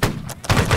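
A line of muskets fires a volley in the Holdfast: Nations at War battle game, a loud close burst of overlapping shots that rings out in under a second, with no talk.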